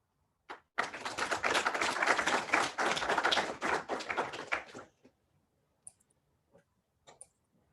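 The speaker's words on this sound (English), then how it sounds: "Clapping on Zoom as well." Brief burst of audience clapping at the end of a physics colloquium talk, dense and fairly close for about four seconds, then fading into a few isolated claps and near silence.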